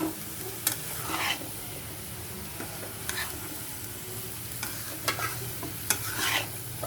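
A spoon scrapes and stirs a water lily and shrimp curry with mustard paste in a pan, giving repeated sharp scrapes and clinks over a steady low sizzle, close and moderately loud.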